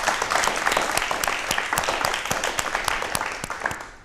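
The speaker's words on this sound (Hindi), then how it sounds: "और हमारे युवा साथियों के लिए भी तालियां एक बार ज़ोरदार होनी चाहिए।" Studio audience on a Doordarshan Rajasthan talk show breaks into loud, sustained applause, dense overlapping claps filling the room and fading slightly at the end.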